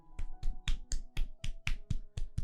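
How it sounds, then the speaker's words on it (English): Hands clapping in a steady, even rhythm, about ten crisp claps at close range with no talking over them. "just clap your hands"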